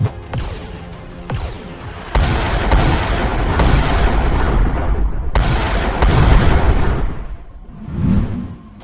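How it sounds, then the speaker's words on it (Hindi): Cartoon smugglers fire guns from inside a ship while a blasting gun answers. The result is loud, booming gunfire with several sharp cracks and dense rumbling blasts that fade into a softer whoosh near the end. "उधर शिप के अंदर से स्मगलर लगातार फायरिंग कर रहे थे।"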